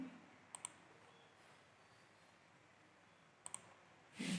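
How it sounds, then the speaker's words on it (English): Crisp mouse clicks on a computer, two quick pairs spaced a few seconds apart, sharp and close against a quiet room, followed by a brief soft rustle at the end. "click on change input, and this time I click on the run flow in rollback mode"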